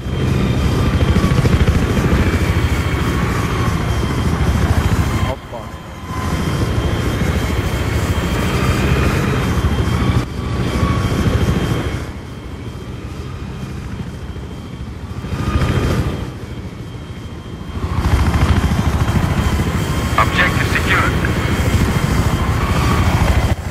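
A helicopter in a multiplayer military shooter game thrums with a loud, steady rotor and engine drone that dips briefly a few times, with no talk over it.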